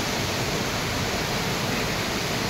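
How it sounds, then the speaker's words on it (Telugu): A forest waterfall on a mountain river trek roars as a loud, dense, unbroken rush of falling water, steady and close with no other sounds. "వాటర్ ఫాల్ బాగుంది కదా, మస్తుంది."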